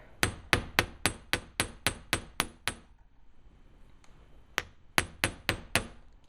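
Rapid metallic hammer taps on a small metal earring piece in a steady series, then a brief quiet gap with a single tap, before a few more strikes resume.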